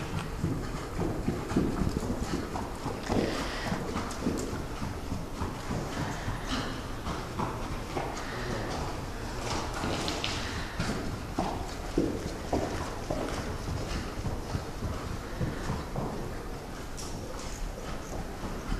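A horse moves at a slow, steady walk gait, its hooves clip-clopping in an even rhythm for nearly twenty seconds, moderately close, with faint background noise and no clear talk.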